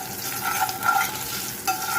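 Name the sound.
stirring spices and curry leaves in a frying pan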